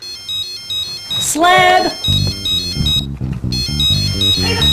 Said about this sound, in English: Who the fuck left their phone on?